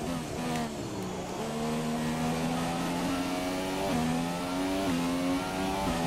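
A McLaren Formula 1 car in F1 2017 at the Bahrain circuit, its engine note climbing steadily in pitch through upshifts, loud and continuous with a brief dip around each gear change.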